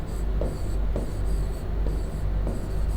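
Chalk or marker scratching across a classroom board during a reasoning lesson, a steady rubbing scrawl with brief strokes and pauses, close and continuous with no talk.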